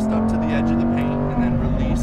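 Lamborghini Huracan Performante engine on a race track: a steady, loud, close engine drone throughout, with a strong low hum as the car accelerates out of a corner. A voice talks over it.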